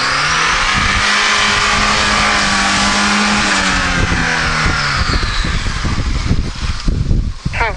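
A car on studded 175 winter tyres accelerates hard up close, its engine roaring and climbing steadily in pitch over continuous road and tyre noise, with no talking.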